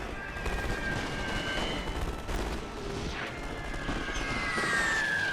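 Submachine gun fire and an artillery barrage in The Great War strategy game, a steady crackle of distant gunfire and rumbling blasts with high whistling tones, no talking.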